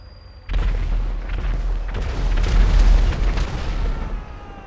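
A loud, sustained explosion in the video game GTA Online, with deep rumbling booms that swell and roll on for several seconds before easing off, with no talking over it.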